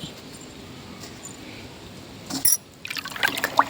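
Water poured out for cattle at a rural home, a splashing, trickling pour that surges loud and close for the last second or so after a steady low murmur.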